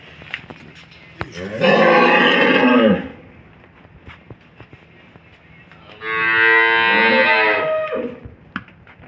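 A Friesian dairy cow gives two long, loud, close moos, the first lasting over a second and the second, after a quiet pause, running longer still.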